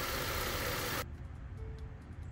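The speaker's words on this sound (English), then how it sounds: "Let me turn the engine off." Idling V6 engine of a 2008 Nissan Pathfinder LE, a steady close rumble that cuts off abruptly as the engine is switched off, leaving a faint quiet hum and a few small clicks.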